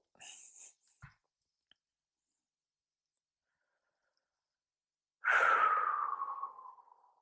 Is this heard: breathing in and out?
yes